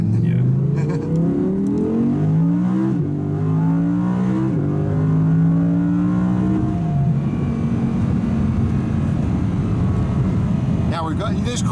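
A 2017 Audi R8 V10 pulls hard through several rising gear sweeps, the engine note climbing and dropping with each shift before settling into a steady road roar, heard from inside the car.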